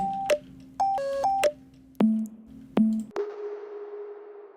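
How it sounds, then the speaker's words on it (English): A series of sharp synthesized stabs, some clustered and tonal, each ringing out, ending in a long washed-out reverberant tail. "I'll try some synth shots with a lot of reverb to keep adding atmosphere to the break"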